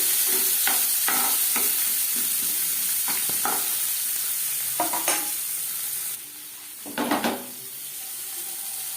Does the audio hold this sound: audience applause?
no